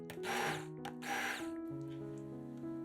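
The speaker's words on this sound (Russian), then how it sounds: "Измельчаем приготовленные овощи погруженным блендером в однородную массу." An immersion blender purees cooked vegetables for zucchini soup in a pot, whirring in two short, loud bursts about half a second each before dropping to quieter motor hum.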